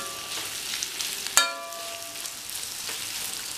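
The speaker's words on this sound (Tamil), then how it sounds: "மசாலா புரட்டி வச்ச சேனைக்கிழங்கை வந்து இதில் சேர்த்துக்கலாம். சேர்த்துட்டு நல்லா ஒன்று போல் கிண்டி விட்டுறலாம்." Masala-coated elephant foot yam pieces fry in hot oil with a steady, close sizzle, a sharp metallic clink as they are stirred, and continuous frying hiss afterward.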